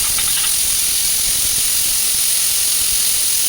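Loud, steady hiss of steam escaping from a pressure cooker whistle, with a high whistling tone running throughout, close by and unbroken.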